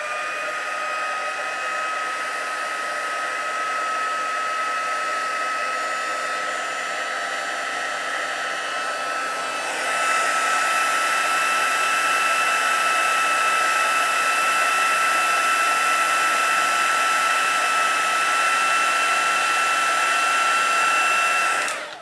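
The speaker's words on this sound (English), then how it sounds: "I do like to get my heat gun hot before I actually put it onto here" A heat gun for heat embossing on a 3D star Christmas card blows with a steady, loud airy roar and a whine. About halfway through it gets louder and brighter, then cuts off abruptly at the end.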